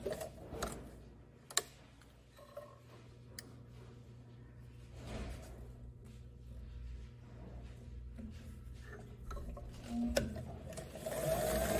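A sewing machine stitches down a pocket seam on wide leg pants, running in a steady close mechanical whir with rapid ticking, pausing briefly a couple of times before resuming.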